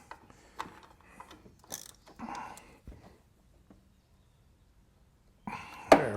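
A ratchet tightens the drain plug on a Harley 5-speed transmission after a new O-ring goes on, giving close, intermittent clicks and metallic clanks separated by pauses, then a louder burst of handling near the end.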